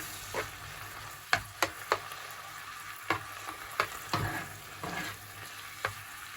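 Food sizzles as it fries in a pan while a utensil stirs it, making repeated sharp scrapes and knocks over a steady low crackle, with no talking.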